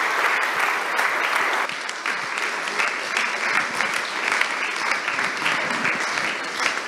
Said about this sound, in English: let's give a huge applause to Hugo for his mini course.